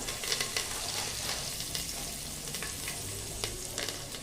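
Green curry leaves from a home tree, added with a pinch of turmeric, crackle and sizzle steadily in hot oil for a Marathi potato curry, with sharp spitting pops over a constant close fry and faint background hum.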